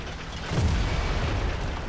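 A tank shell strikes the player's IS-3 in a War Thunder battle, a sudden deep boom that lands mid-clip and rumbles on in a low, muffled roar.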